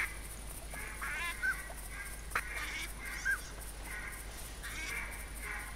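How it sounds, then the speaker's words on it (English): Ducks calling overhead during a hunt in theHunter video game, several faint honking quacks scattered across a few seconds against a steady low outdoor hum. "Okay, we got some ducks to break off."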